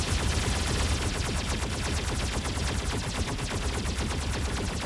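Pulse cannon weapons in the Mech Arena video game fire in a dense, unbroken rapid stream of loud pulsing shots for the whole stretch, like sustained automatic gunfire.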